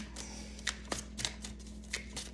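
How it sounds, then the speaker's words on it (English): Stiff, crisp tarot cards riffle and slide in a soft, continuous shuffle with occasional crisp flicks, close by over a steady low hum. "the cards are a little crisp, so they may be loud as I'm shuffling"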